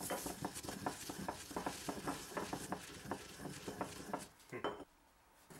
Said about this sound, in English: it's a lot of fun to be able to use an old-fashioned mortar and pestle